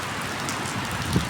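Sudden rain falls in Saudi Arabia, a steady close hiss of drops on surfaces with one small sharper patter near the end and no voices.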